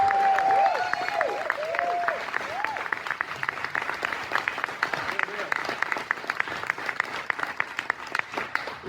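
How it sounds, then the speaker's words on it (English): A dinner crowd at a county political event breaks into sustained applause, a loud voice heard briefly at the start before many hands clap steadily with crisp individual claps throughout. "let's give them a big round of applause for the courage that they have"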